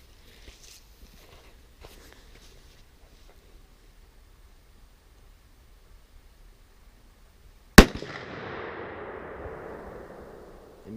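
6.5 Creedmoor rifle fired at a Master Lock outdoors: after near silence, a single sharp loud report near the end, followed by a long rumbling echo that fades over a few seconds.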